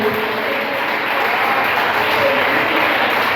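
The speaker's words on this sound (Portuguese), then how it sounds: "Aplaude ao Senhor." Congregation applauding during a church service, a loud, steady wash of clapping filling the whole moment with no gaps.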